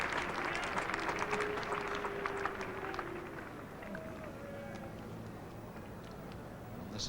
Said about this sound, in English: the applause for the first innings lead here for Australia